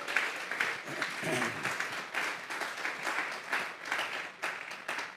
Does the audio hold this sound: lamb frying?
no